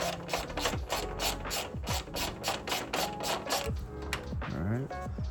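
A ratchet tightening a bolt on an Acura Integra hood, fast clicking pawl bursts in repeated strokes, close and crisp, with brief mechanical squeaks near the end and no talking.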